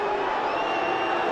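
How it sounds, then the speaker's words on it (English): Hurling match crowd roaring and jeering in reaction to a red card, a dense, loud, sustained wall of voices with no break. "And you can hear what the crowd think here."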